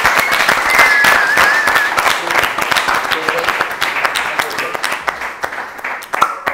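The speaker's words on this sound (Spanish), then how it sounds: "Un aplauso muy fuerte para Sergi Ram." An audience at a basketball event applauds loudly, dense clapping starting strong and gradually thinning into scattered individual claps, with a brief whistle early on and crowd voices underneath.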